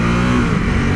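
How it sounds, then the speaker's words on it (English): Ducati Supersport S motorcycle exhaust, loud and close, a steady throaty engine drone with a strong low rumble held for a full second without talk. "Oh, I just love that exhaust sound."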